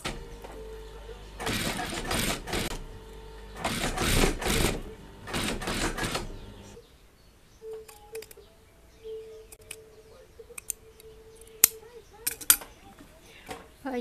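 A sewing machine stitches a shirt placket in several loud bursts of rapid mechanical whirring separated by pauses, followed by quieter clicks and handling noises.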